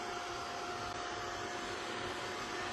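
A heat gun blows briefly over a handmade paper card to set the coloring, making a steady, close whooshing roar from start to finish with no talking.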